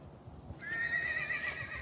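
A horse neighs in the background, a single faint rising whinny heard from a distance with quiet surroundings.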